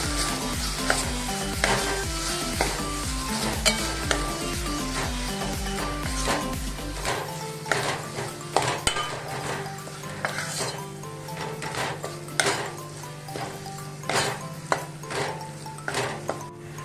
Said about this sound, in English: now we have to fry this masala up very well along with these onions